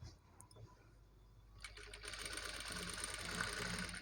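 A sewing machine stitches invisible piping onto a garment neckline at the shoulder. After a quiet pause of about a second and a half it starts up and runs in a steady, close whirring stitch to the end.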